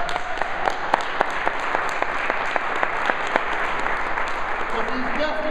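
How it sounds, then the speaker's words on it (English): Steady, loud clapping fills a room as an audience at a returning citizens event applauds during a keynote speech, a dense, even wash of hands with a few sharper individual claps standing out. "so let's get his brother a round of applause."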